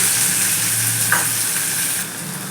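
Medium onion, thinly sliced, frying in the oil left over from frying katla fish and potatoes: a steady, close hiss of sizzling oil with a brief stirring scrape partway through, easing slightly near the end.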